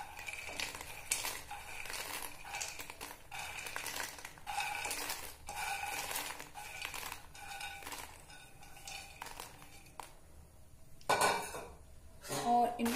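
Fox nuts (makhana) are stirred in hot ghee in a metal pan, giving repeated clattering scrapes and light rattling taps in irregular bursts, with a quieter stretch before louder clanks near the end.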